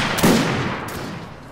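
Video game gunfire from a Freikorps Jaeger Company battle near a bridge: one loud, close shot with a booming tail that fades over about a second, a faint second crack following.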